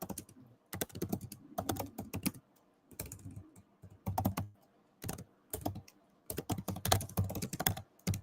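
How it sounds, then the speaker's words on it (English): Keyboard typing on a computer during an online voice chat, rapid clusters of firm keystrokes broken by short pauses, close and clear with no talking. "Here's someone typing."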